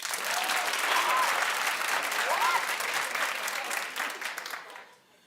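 A television talk-show studio audience applauds loudly and steadily, with a few voices calling out over the clapping before it fades away near the end.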